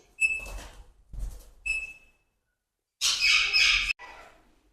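Alexandrine parakeets at a breeding aviary giving several loud, harsh squawks with whistled tones, separated by short pauses and ending in a dense, raspy burst.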